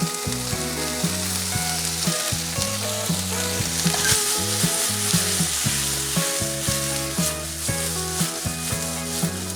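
Chicken breast sizzles in a pan with butter, frying loudly and continuously while a utensil stirs and scrapes in a steady rhythm.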